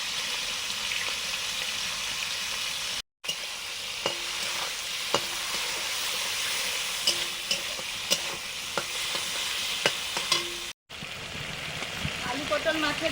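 Prawns coated in salt and turmeric fry in hot oil with bay leaf and dried chilli, giving a loud, close, steady sizzle broken by scattered clicks and knocks of stirring.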